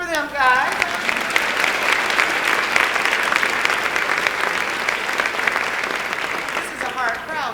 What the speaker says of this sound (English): Let's clap for them, guys.